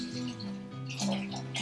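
A bottle of water pours into a cooking pot holding potatoes and tomato sauce, a brief close, continuous liquid splashing that swells near the end.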